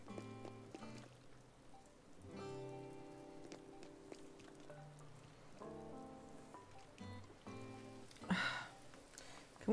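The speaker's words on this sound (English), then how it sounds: "Uh-oh, it's raining." Game rain from Animal Crossing: New Horizons falls steadily throughout, a soft continuous patter layered under gentle tonal background music, with a brief louder swell near the end.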